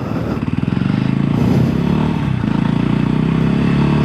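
A 2025 Voge 300 Rally motorcycle engine drones loud and steady throughout, its low throbbing note swelling slightly as it pulls along, with no talking.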